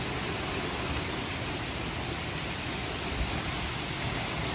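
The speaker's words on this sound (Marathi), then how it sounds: "जोराचा पाऊस पण सुरू झाला" Heavy rain pours during a violent storm with strong winds, a dense, unbroken roar of wash and hiss filling the air at a steady level throughout, with no voices.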